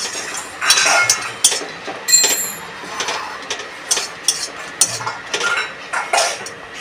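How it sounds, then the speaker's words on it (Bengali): Two dried red chillies are stirred in an empty wok. A spatula scrapes and clinks against the metal in a quick, irregular series of sharp taps, close and clear, with no talking. "তার মধ্যে দুটো শুকনো লঙ্কাও খালি কড়াইয়ের মধ্যে নাড়াচাড়া দিয়ে ভেজে নেব।"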